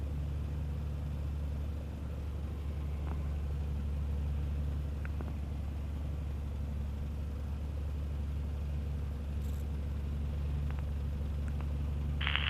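A light aircraft engine warming up on snow before takeoff, a steady low droning rumble held at an even idle throughout, with a few faint clicks and a brief brighter burst near the end.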